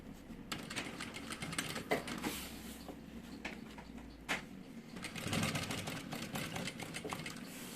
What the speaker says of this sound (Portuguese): a nossa máquina nova que é a Jack H5. Ela é uma transporte duplo maravilhosa